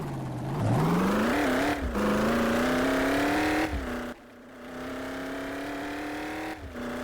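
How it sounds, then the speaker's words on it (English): A truck engine revs up close as it pulls away, pitch rising through several gear changes with brief dips between, loud and steady with no talking. "just listen to that motor."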